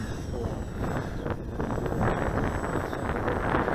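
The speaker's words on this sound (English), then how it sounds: "This wind is just a little over 10 miles an hour." Steady wind gusting at a little over 10 miles an hour across an RC flying field where a Multiplex PC-6 Pilatus Porter model flies, a constant broadband rush and buffeting against the microphone, loud and unbroken throughout.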